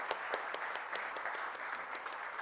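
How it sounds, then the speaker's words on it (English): Audience at a Parkinson's disease update event applauds the doctors, quiet, distant clapping with a few sharper individual claps standing out. "Let's give our doctors a big round of applause"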